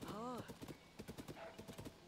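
Horse hooves clip-clop in a steady, close rhythm while riding through Zelda: Tears of the Kingdom, and a short whinny opens the passage.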